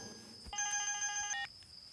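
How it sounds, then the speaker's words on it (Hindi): A telephone rings once with a bright electronic ringtone lasting under a second, clear and fairly close in a quiet room. "फोन बज रहा है।"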